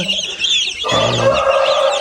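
High peeping of chicks runs throughout, joined halfway by a louder hen's clucking close by; steady, busy farmyard chatter with no talking.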